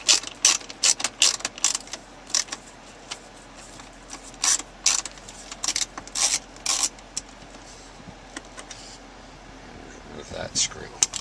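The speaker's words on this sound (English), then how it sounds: "we're going to remove that screw as well" A hand ratchet clicks in quick bursts while it backs out a screw from a 2007–2012 Mercedes-Benz GL/ML Class car stereo, with pauses in between and someone talking faintly.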